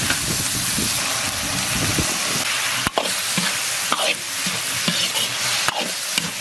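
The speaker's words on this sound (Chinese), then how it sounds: "倒入青红辣子炒一炒出锅" Shredded meat, glass noodles and green and red chili peppers stir-fried in a wok with pickled pepper strips, ginger and garlic, giving a steady loud sizzle and hiss with scraping stirs and occasional sharp spatula knocks throughout.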